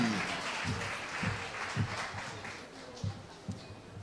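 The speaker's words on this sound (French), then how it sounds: "On applaudit." Pageant audience applause at the Miss Haiti 2022 final in Cap-Haïtien, a fading wash of clapping with scattered louder low thumps, tapering and thinning toward the end.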